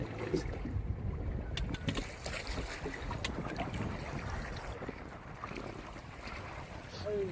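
Wind buffets a boat on the Brahmaputra river as waves slap around it during fishing, a continuous low rumbling roar with the microphone catching gusts and scattered splashes throughout.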